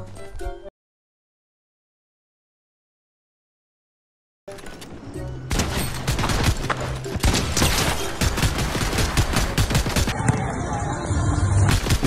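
Gunfire in the Fortnite video game crackles in dense, rapid bursts after a short silence, then carries on as sustained close shooting.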